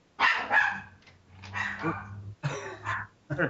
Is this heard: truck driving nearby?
no